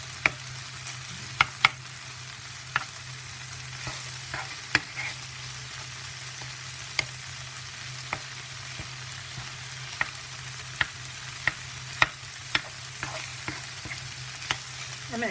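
Tofu crisps in a pan over medium heat with an even, soft sizzle. A spatula stirs it and taps the pan in sharp, regular clicks over a low steady hum.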